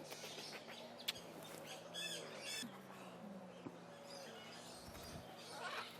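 Harsh, repeated lorikeet squawks and chirps from several birds, fairly close, over a constant murmur of background noise.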